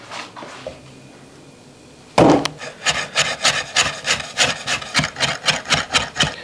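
A knife chops ginger on a cutting board with rapid, even, close wooden taps, about fifteen in a steady rhythm, after a quieter lead-in with a single louder knock.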